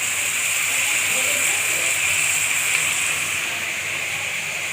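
Garlic sizzling in a hot pan while a Bengali pumpkin curry is cooked, a steady loud hiss that runs unbroken throughout with no pauses.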